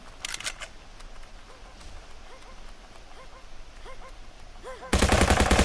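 Gunfire in a war video game, a quick burst of shots at the start and a loud rapid automatic volley at the end, with quieter game sounds in between.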